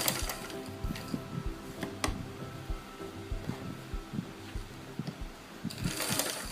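Sewing machine stitching trouser fabric, quiet irregular mechanical clatter with scattered sharp clicks over a soft hum, close and faint, no talk heard.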